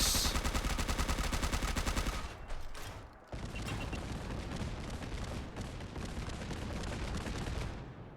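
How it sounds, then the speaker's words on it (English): A shoulder-mounted machine gun firing celebratory fireworks in Fallout 4 lets out a rapid, loud burst of repeated shots, then a short pause, then a long sustained crackling barrage with no talking. "So why not fire some celebratory fireworks?"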